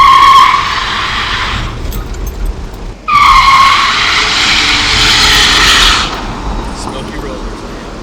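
A Ford F-100 held on line lock spins its tires against the brakes in two loud bursts of screeching rubber and engine roar, separated by a brief drop, then fading to a lower rumble with voices nearby.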